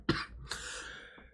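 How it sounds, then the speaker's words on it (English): A person coughs sharply twice right into a microphone, loud and close, the second cough trailing off into a rasp. "I don't know why I cough right in the mic"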